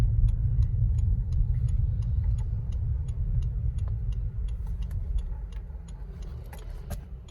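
The turn indicator in a 2023 Maruti Brezza VXI ticks steadily in a regular rhythm inside the cabin, faint and crisp over the low hum of the idling engine.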